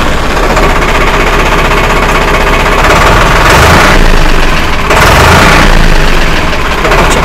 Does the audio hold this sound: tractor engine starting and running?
yes